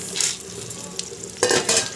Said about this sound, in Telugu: ఇవి బాగా చిటపటమన్నాక